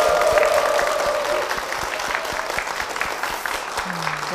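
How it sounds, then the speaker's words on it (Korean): A church congregation breaks into full, dense applause for the church and its senior pastor, loud and sustained throughout, with a voice briefly heard near the end. "교회와 담임 목사님을 위해서 다시 한번 큰 박수 부탁드리겠습니다"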